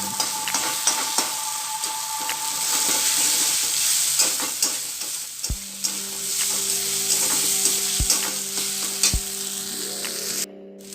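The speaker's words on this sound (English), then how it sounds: "I'm going to let it fry until the rawness or the raw smell from the ginger garlic paste vanishes" Ginger garlic paste frying in a pan for beetroot chicken curry, a loud dense sizzle carrying on throughout with frequent crackles and a few scraping stirs, close up with no talking, cutting off abruptly at the end.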